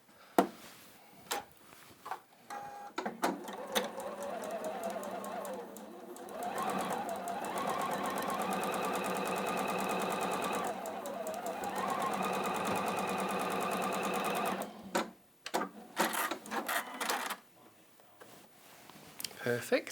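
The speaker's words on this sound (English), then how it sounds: "I'm going to sew that to there" A sewing machine stitches fabric in a quilting demonstration, running in a steady whirring burst of about nine seconds, preceded and followed by clicks and handling of the machine and fabric, with a person talking around it.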